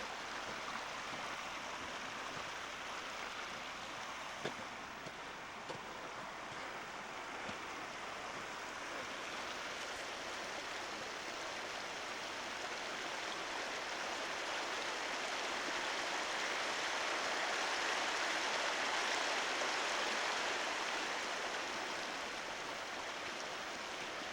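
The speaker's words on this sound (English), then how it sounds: "This is that same Jemez Creek we've been seeing all the way from" Jemez Creek flows steadily in New Mexico's Jemez mountains, a continuous, fairly quiet broadband rush of stream water with no voices, swelling slightly toward the end.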